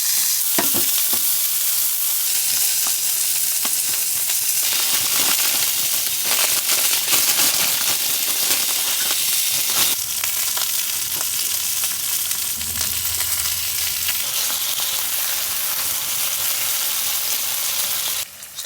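Food sizzles and crackles in a pan on a wood stove inside a winter camping tent during a snowstorm, a loud, steady, close frying hiss that runs unbroken with scattered pops and no voices.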